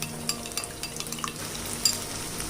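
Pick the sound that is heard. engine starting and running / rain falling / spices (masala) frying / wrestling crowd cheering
spices (masala) frying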